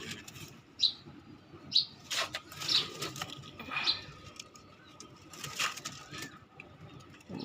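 Pigeons and their young chicks at a home loft, with several short bursts of wing flapping and soft chirps spaced irregularly against quiet background, fairly faint and close.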